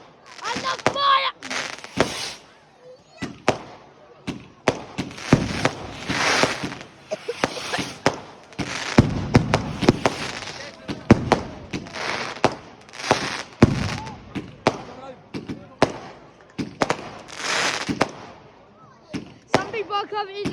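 Fireworks bursting outdoors: a long run of sharp, loud explosions and crackles, some near and some farther off, with people talking and cheering between the bangs.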